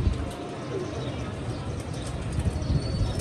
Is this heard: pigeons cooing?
yes